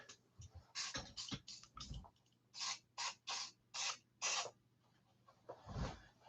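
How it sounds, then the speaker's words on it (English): Short bursts of WD-40 aerosol spray hiss up close onto a knife sheath, about ten quick squirts in a loose rhythm, with brief pauses between them and no talking. "I'm going to give Lily's sheath a little spray."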